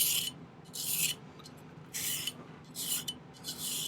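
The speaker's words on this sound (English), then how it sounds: "you want to make sure not to hit the top of the bezel when you're filing that off" Metal file rasping across a ring bezel in three or four short, separate strokes, close and fairly quiet, with brief pauses between passes.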